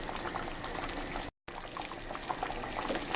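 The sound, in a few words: Nigerian white soup with yam boiling in pot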